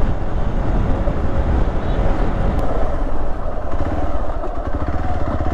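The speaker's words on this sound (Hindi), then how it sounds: "आज पहली बार हम आका के साथ बाइक पे बैठ रहे हैं" A motorbike ridden along a road, its engine droning steadily and loudly while wind buffets the microphone throughout.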